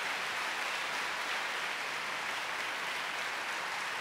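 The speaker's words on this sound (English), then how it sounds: "One round of applause for the Secretary." An audience at an economic development summit in Montana claps steadily, a dense, even patter of applause from a crowd, moderately distant.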